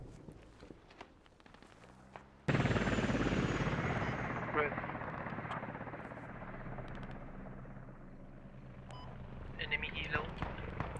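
An enemy helicopter in a military shooter game roars in suddenly and loudly with a heavy rotor drone that slowly fades, while footsteps shuffle and a player talks.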